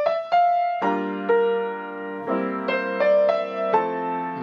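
Piano plays a jazz 2-5-1 chord progression in sustained voice-led chords, a few held chord changes with a brief melodic note on top, clear and close with no voices.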